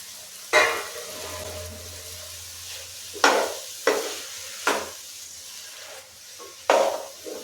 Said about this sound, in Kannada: ಇದರಲ್ಲೂ ಎಣ್ಣೆಲೆ ಫ್ರೈ ಮಾಡ್ಕೋಬೇಕು